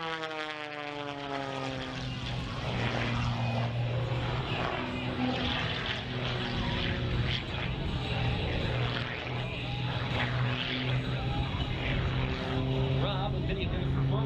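An aerobatic propeller airplane flown by a world aerobatic champion performs at the Great State of Maine Airshow, its engine droning and shifting pitch at a distance amid crowd noise and an announcer's voice.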